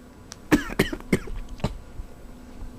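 Four sharp coughs, close and distinct, spaced unevenly over a couple of seconds with quiet in between.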